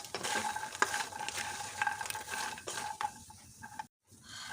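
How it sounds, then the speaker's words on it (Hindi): Makhana (fox nuts) frying in desi ghee in a pan, a steady close sizzle with scraping stirring strokes through most of the clip, dropping briefly to near silence before resuming. "तो अब मखानों को हम फ्राई कर लेते हैं"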